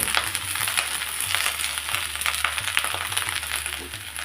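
Ice apple pickle fries in a pan with a steady, dense sizzle and crackle, overlaid by soft scraping of a spoon stirring, continuous and close.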